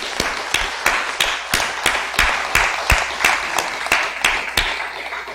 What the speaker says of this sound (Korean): 우리 자녀들을 위해서 박수하겠습니다.